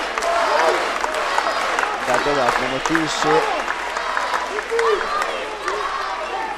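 A crowd cheers and applauds at an MMA fight between Haris Bošnjaković and Husnija Hidanović, steady arena noise under continuous commentator talk.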